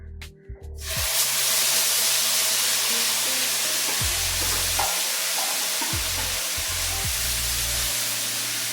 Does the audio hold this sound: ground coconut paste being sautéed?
yes